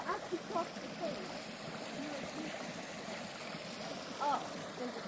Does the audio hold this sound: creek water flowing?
yes